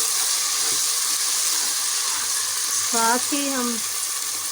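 Garlic and ginger paste sizzling with fried onions in a pan for curry pakora, a steady broadband frying hiss throughout, with a brief voice speaking over it near the end.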